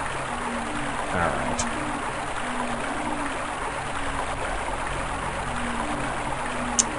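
Steady flowing water in the horror adventure game Overblood, a continuous even rush with a low repeating tone beneath, plus a couple of faint clicks; someone briefly speaks.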